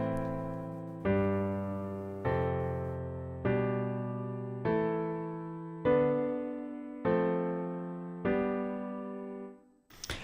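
Solo piano playing an embellished vi-V-IV-V chord progression, eight evenly spaced chords that each ring and decay, clear and close, with no talking.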